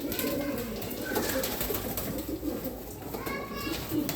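Pigeons squabble over a spot, giving soft coos and short calls scattered across the moment, while people talk quietly in the background throughout.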